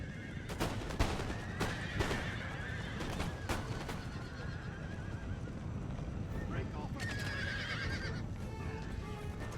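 A horse whinnies amid a battle in the video game Total War: Empire, with hoof clip-clop and distant gunfire under a faint, muffled background.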